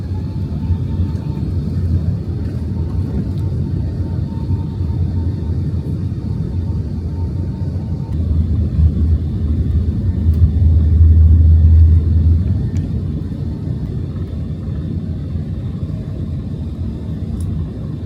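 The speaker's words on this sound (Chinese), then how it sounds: "我们在10点35从迪拜机场3连右跑道起飞" Heavy, continuous engine rumble fills the cabin of an Emirates airliner as it takes off from a Dubai airport runway, swelling to a louder roar near the middle before easing slightly.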